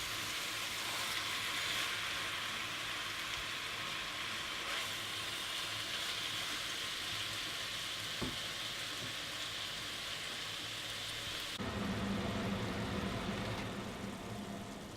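Lamb sizzles steadily as it browns in a hot pan for a curry, a dense, even frying hiss that holds for the whole stretch with a brief shift in tone near the end and no talking.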